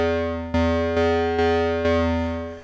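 Angry synth played through a distortion effect: a buzzing, harmonically rich sustained tone re-struck four times in a steady rhythm, each hit slowly decaying, loud and alone.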